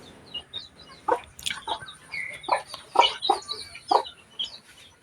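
Country chickens on a rural village farm cluck and call in a series of short, irregular bursts, fairly close, with quiet background and no talking.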